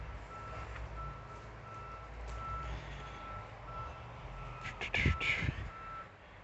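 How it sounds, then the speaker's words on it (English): Faint, repeated reversing beeps from cement trucks at nearby road construction sound through a steady low truck rumble, with a crow cawing briefly near the end; no talking. "this video is just full of the sounds of construction, because they are doing something to a road like not even a block away from me, with like cement trucks"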